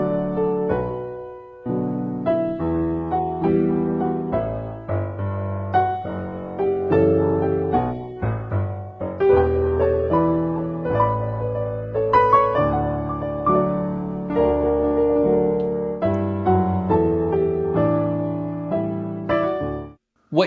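A jazz recording plays with a swung eighth-note feel accented backwards, steady melodic lines over a full band texture, loud and continuous with a brief drop near the start.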